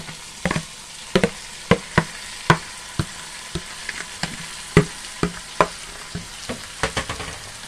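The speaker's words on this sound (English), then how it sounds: "We're adding in our ackee now." Ackee frying in a pan for Jamaican ackee and saltfish: a steady sizzle under a run of sharp, regular clicks and scrapes of a utensil stirring against the pan, close up with no talking.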